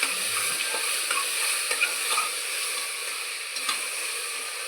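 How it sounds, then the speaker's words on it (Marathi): Potatoes and peas being stirred into spiced masale bhaat rice in a pan, a close steady sizzle with repeated scraping stir strokes, no voices. "बटाटा आणि वाटाणा. पण छान मिक्स करून घ्यायचं आहे."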